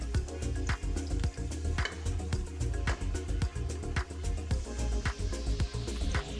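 Kamote is stirred with sugar in a hot pan, giving a steady frying sizzle broken by rhythmic scraping and clacking strokes of the utensil against the pan, close and continuous.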